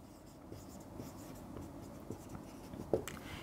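Chalk or marker scratches across a board during a math lecture, faint and close, with soft strokes and one sharper tap near the end.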